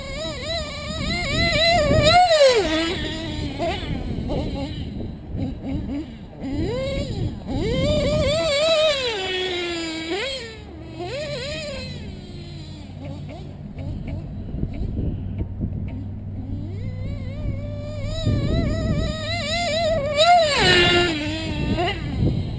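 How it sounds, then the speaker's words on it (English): Modified Red's Team Edition engine running, a loud revving drone that rises and falls in pitch through the whole stretch, close by, with intermittent speech. "even a modified badass engine like this Red's Team Edition"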